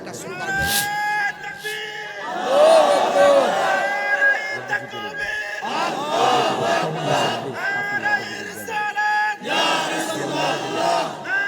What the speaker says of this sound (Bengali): একটা স্লোগান দাও